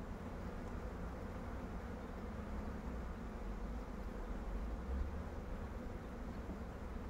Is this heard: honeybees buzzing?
yes